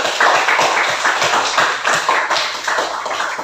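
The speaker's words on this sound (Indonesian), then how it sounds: "tepuk tangan untuk kita semua ya" A classroom of students claps together after a teacher's praise. The applause is loud, dense and steady, with a quick patter that runs close by for the whole stretch.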